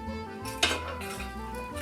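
A metal scoop scrapes and clanks once while hot coals are added to a burner for coffee roasting, set against a steady low roar and hiss of the fire.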